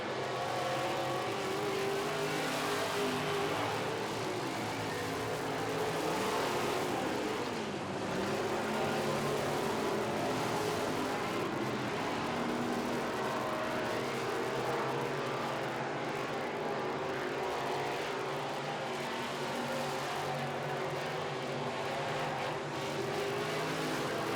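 Modified race cars roar steadily around an oval track during a Midwest Modifieds heat race, a dense continuous engine drone with swelling revs as the pack passes, loud and sustained with no pauses.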